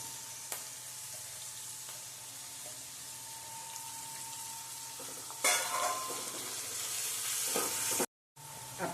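Chopped onion and grated ginger hit a hot pan, a soft steady sizzle that swells into a louder burst of frying midway, then cuts out briefly; no voices.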